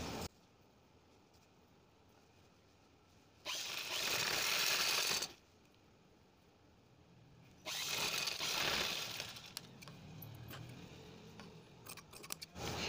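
Two separate bursts of a sewing machine topstitching a folded edge on a princess-cut blouse, each lasting a couple of seconds with a quiet pause between, followed by faint handling clicks.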